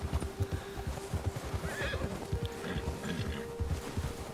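A horse in Red Dead Redemption 2 whinnies while its hooves clop in a steady, quick rhythm, both sounds close and fairly quiet, with no talk over them.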